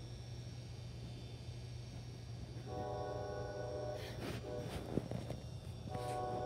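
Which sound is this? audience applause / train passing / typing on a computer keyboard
train passing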